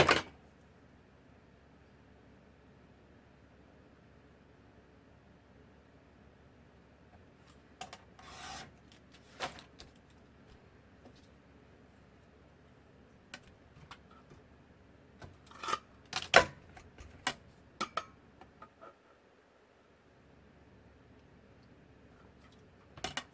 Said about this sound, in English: I'm just going to cut some strips